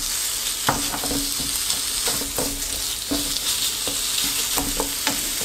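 Minced kefta and softened onion frying in a pan, a steady hiss of sizzling broken by repeated scraping strokes as the mixture is stirred.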